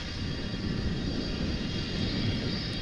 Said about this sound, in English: I definitely hear an engine whining over there.